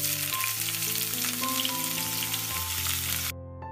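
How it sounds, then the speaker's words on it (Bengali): Chopped onions, three large ones, fry lightly in a pan with a loud, steady sizzle over soft background music, and the sizzle cuts off abruptly near the end. "পেঁয়াজ কুচিটাকে আমি এখন নেড়ে ছেড়ে ভেজে নিচ্ছি হালকা মতো করে"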